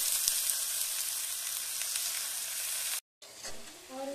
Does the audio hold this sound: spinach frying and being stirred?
yes